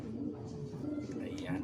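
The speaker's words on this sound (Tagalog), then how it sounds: "pakita ko rin po sa inyo yung mga ano natin, mga puting kalapati po natin dito sa ating loft" White pigeons cooing in a loft, a low steady murmur of soft coos running throughout under speech.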